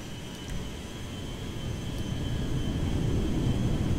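Steady broadband engine roar of an airplane taking off in GTA 5, loud and continuous, swelling slightly over a few seconds with no voices.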